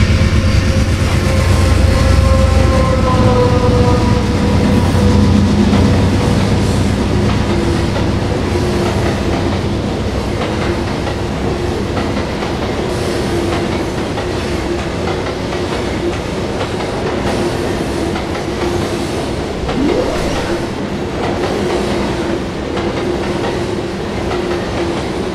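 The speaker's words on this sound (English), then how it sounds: "Our final train of the day would be a westbound intermodal as it rolls on into the sunset." A Norfolk Southern westbound intermodal freight train rolls past on the Gunnison District at sunset, a loud, sustained rumble of wagons with rhythmic wheel clatter and a brief wheel squeal, and no voices.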